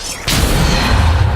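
A Depulso spell cast in the video game Hogwarts Legacy: a sudden whooshing burst followed by a loud, sustained rumbling boom that fills the rest of the moment.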